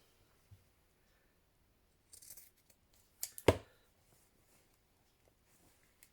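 Scissors snip through a fabric quilt seam in a few quiet, close cuts, with short rustles of cloth around them in an otherwise hushed room.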